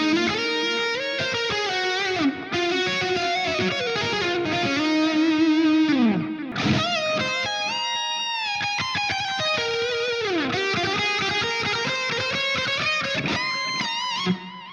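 Electric guitar played through a Friedman amp plugin with delay on a mellow clean preset, sustained chords and melodic lines ringing out with audible echo repeats, alone and continuous.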